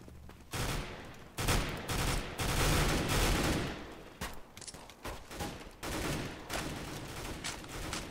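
Automatic gunfire in CS:GO: repeated close, loud bursts of rapid shots hammer through the clip in uneven clusters, with brief gaps between volleys.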